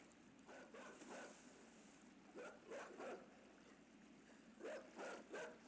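A dog in the video game Inside gives several rough, breathy barks or snarls in short clusters, faint and set against a soft steady wash of game ambience.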